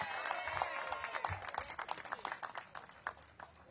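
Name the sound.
audience applause for Garrett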